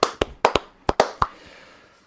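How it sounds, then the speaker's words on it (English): A few sharp hand claps in an irregular burst, close and loud, with short gaps between them and a quiet room tail afterward. "I'll give myself a clap for that."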